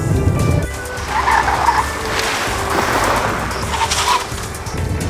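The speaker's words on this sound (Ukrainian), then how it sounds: "Я завжди намагаюся спробувати автомобіль на межі втрати керованості." Tires of a 2012 Hyundai Santa Fe 2.2 CRDi SUV squeal and scrub intermittently at the handling limit over a steady engine and road roar, with squeals rising and fading twice.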